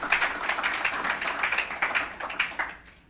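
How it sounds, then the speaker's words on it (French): An audience at a HeForShe campaign launch event in Gabon applauds the gentlemen, a steady burst of close, crisp hand claps that thins out and fades toward the end. "Ces messieurs méritent d'être vivement applaudis encore une fois quand même."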